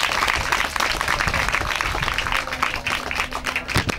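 An audience at a school student training event applauds to welcome the school director, steady dense clapping from many hands at moderate distance, with a brief voice near the end.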